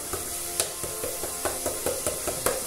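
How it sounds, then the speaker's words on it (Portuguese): Grated garlic frying in a pan gives a continuous close sizzle, punctuated by regular light clicks of a spoon stirring. "Deixar ele fritar, tirar esse cheirinho de alho."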